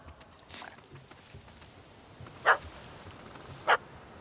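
Two short, distinct barks from a dog in The Witcher 3: Wild Hunt, spaced about a second apart over a quiet ambient background with no talking.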